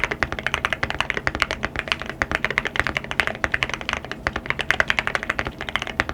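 Rapid, continuous clacking of keys on a mechanical keyboard, crisp and close, with an uneven fast rhythm throughout.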